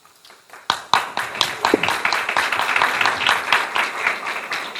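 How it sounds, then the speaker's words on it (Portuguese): A crowd at a book launch for "Dois É Melhor Que Um" breaks into applause that starts with a few scattered claps, then quickly swells into steady, loud clapping from many people in a room. "Esse aplauso já é para levantar, tá, pessoal?"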